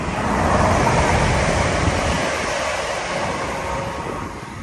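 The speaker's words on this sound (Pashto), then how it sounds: "دا نو هماغه تیز اورګاډي دي چې مخکې مې درته ویلي وو" A fast intercity train rushes past in London, a loud sustained roar and rumble of rolling wheels that gradually eases as it passes.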